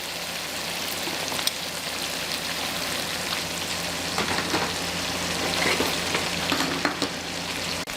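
Shrimp frying in a hot pan for Singapore-style chow mein with rice noodles, a steady dense sizzle with crackling and occasional stirring scrapes, close and continuous throughout.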